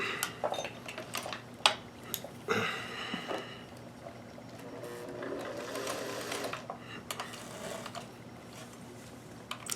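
A Singer 431G sewing machine stitching lace onto a bodice, a steady fast mechanical whir with small clicks and rattles running throughout, close up with faint talk underneath.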